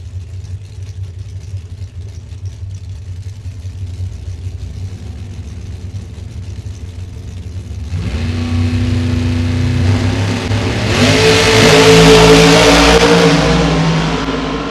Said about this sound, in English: We'll leave first with the Corvette.